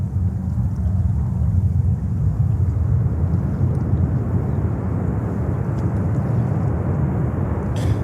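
A Cathay Pacific airliner passes at JFK Airport, a steady deep rumbling roar with a broad airy wash, sustained and fairly loud throughout without talk.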